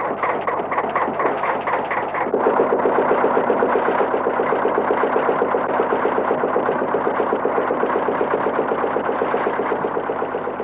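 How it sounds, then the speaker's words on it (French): Engine of a Maldivian fishing boat turning over and catching, then settling into a loud, steady rhythmic chugging idle that runs alone for several seconds. "lancer le moteur"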